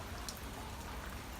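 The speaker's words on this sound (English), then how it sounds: "it's raining today" Steady rain pattering outdoors beside a chicken coop, a soft continuous wash of drops with no voices.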